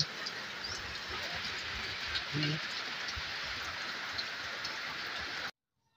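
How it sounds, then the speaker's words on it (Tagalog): Steady rain pouring down outdoors during a pigeon race in Mabitac, Laguna, a constant dense hiss of drops on surfaces with a faint brief voice, cutting off abruptly near the end. "kung mapapansin nyo sa video, lumalakas na naman ang ulan"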